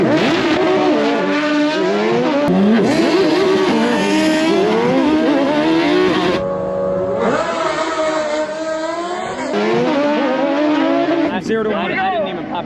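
A car at a drag track launches off the line on a slid clutch, its engine revving hard and rising through the gears, loud and close, with people talking over it.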